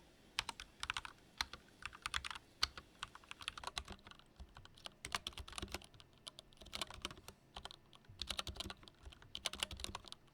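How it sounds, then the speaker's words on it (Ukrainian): Fast typing on a Lorgar Azar 514 mechanical keyboard fitted with Dream Switches, a dense run of close, quiet clicky keystrokes in irregular bursts with a few short pauses. "Ось так клавіатура звучить в порівнянні з моєю поточною клавіатурою на тактильних свічах"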